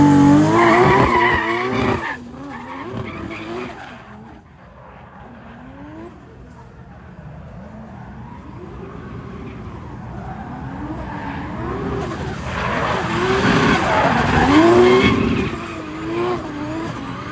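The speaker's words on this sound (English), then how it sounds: "he's a very talented driver, and it's a very, very sick drift car. Full carbon body S15" Full carbon-body Nissan S15 drift car drifting at a Bangkok car meet, engine revving hard with long tire squeals and skids that swell and fade, loud and close, with some voices in the background.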